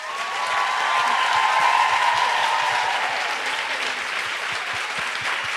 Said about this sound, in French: Alors applaudissons-les déjà très fort.